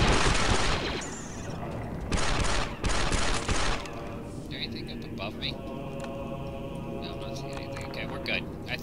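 Bursts of blaster gunfire in Star Wars Republic Commando, heavy rapid volleys in the first few seconds, then lighter scattered shots and metallic clatter over a droning game backdrop.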